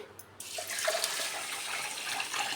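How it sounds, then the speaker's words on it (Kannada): Water is poured over rice set to soak for onion dosa batter, a soft, continuous splashing trickle that begins after a brief quiet moment and runs steadily, close and fairly gentle. "ಇವಾಗ ಮುಳುಗುವಷ್ಟು ನೀರು ಹಾಕಿ"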